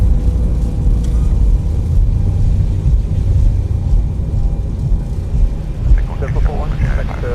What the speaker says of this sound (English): spoilers are out, and the reverse thrust as well